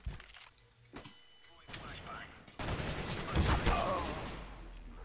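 Shotgun fire in CS:GO, heard as sharp gunfire bursts with a louder stretch of shots near the end, set among game effects and light talk.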